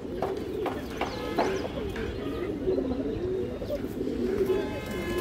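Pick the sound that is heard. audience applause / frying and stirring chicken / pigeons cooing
pigeons cooing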